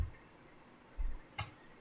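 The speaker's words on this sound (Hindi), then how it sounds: "right click" A computer mouse gives a right click: a few sharp, quiet clicks spaced over a couple of seconds, close up, with no other sound.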